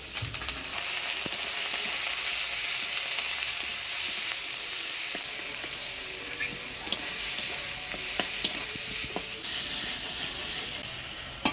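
A paste of ground ginger, cumin, onion and chilli with turmeric and salt fries in oil, giving a dense, steady hissing sizzle throughout with scattered light scrapes and taps of stirring.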